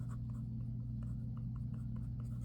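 A pen writes in a budget planner, giving soft, close scratching strokes over a quiet indoor hum, with no voices.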